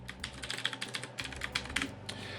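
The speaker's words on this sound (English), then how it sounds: "So now we're going to type in our root password." Rapid typing on a computer keyboard while a root password is entered for a Linode server login, a close, dry patter of uneven key clicks heard alone.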